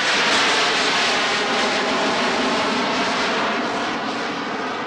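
A loud, continuous roar of an airplane engine near an airport fills a film scene, a dense broadband rumble that holds steady and fades only slightly toward the end, with no voices.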